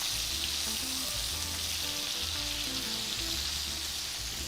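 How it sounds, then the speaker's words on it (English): Sausage, peppers and onions fry in a hot pan with a steady, loud, dense sizzle, while low tones hum faintly underneath. "don't be afraid to get a little char on your sausage and on your peppers and onions"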